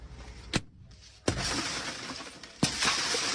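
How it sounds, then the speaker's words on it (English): A police officer breaks a car's driver's side window during a traffic stop. Three sharp, loud glass-shattering impacts sound in quick succession, with crunching and tinkling between them. "That was the sound of the officer breaking his driver's side window."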